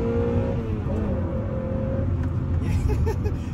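Honda Prelude Type SH engine revving hard and climbing into VTEC, a steady loud drivetrain drone with rising engine tones and a brief voice over it.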